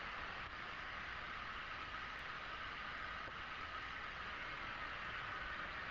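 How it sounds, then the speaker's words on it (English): Airplane engines heard from inside the cabin of a plane flying weightless parabolic maneuvers, a steady, faint broadband roar without change or break. "The sound that you hear is obviously the engines of the plane."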